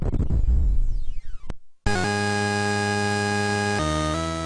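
Arcade-style Defender sound effects on PlayStation: a descending synthetic sweep and crackling blasts, a brief silent gap, then a loud sustained buzzing electronic drone with a pitch shift near the end.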